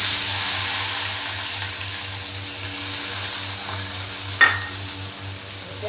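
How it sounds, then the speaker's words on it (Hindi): Steady frying sizzle from cumin seeds and onion in hot oil in a tempering pan, continuous and close, with a brief clink of a utensil near the end. "इसमें छोटा सा तड़का लगा देते हैं"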